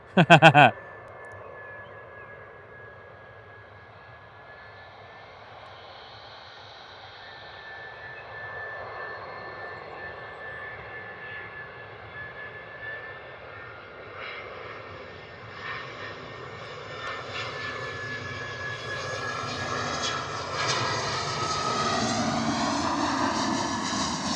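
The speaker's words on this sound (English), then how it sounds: "A320 coming in from Edinburgh" An Airbus A320 airliner arriving at Bristol Airport on a wet, stormy day, its engine roar slowly building from a distant hum to a louder, broadband rush over about twenty seconds, with a brief thump at the start.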